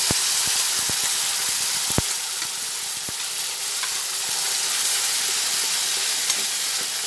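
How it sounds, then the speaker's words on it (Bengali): Mango and mustard paste hitting hot oil with frying dried red chilies, a loud continuous sizzle and hiss with a few sharp utensil clicks and taps in the pan, no talking. "শুকনো লঙ্কাটা ভাজা হচ্ছে সেই অবস্থায় যে আমি যে পেস্টটা রেডি করে রেখেছিলাম আম আর সর্ষে দিয়ে সেই পেস্টটা ওর মধ্যে ঢেলে দিলাম"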